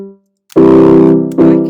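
BandLab Rhodes electric piano playing a chord, struck twice with a sustained warm tone, loud and close after a short fading note and a brief silence.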